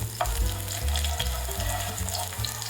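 Ginger sizzles in a little oil in a pan, a bright, steady frying hiss broken by a few quick stirs and scrapes.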